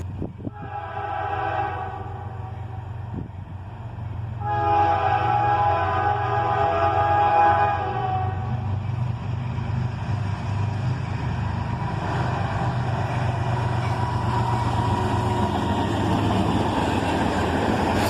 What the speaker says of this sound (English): I was going to stay as long as it took to watch that train go by